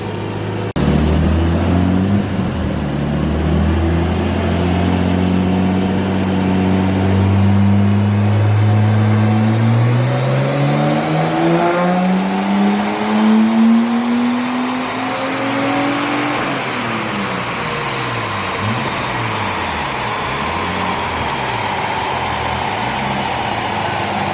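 Nissan Skyline R33 with an RB25 engine revving on a dyno while running rich, a loud continuous pull whose pitch climbs steadily for about fifteen seconds, then holds and wavers as the revs settle, with no voices.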